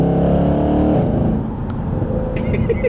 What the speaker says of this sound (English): The one thing I've noticed in the back of this car is how much louder it is being that little bit closer to the exhaust.